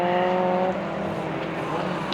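Autograss race cars roar past on a St Neots dirt track, one loud engine note dropping as it goes by, followed by a steady rumble of more cars nearby.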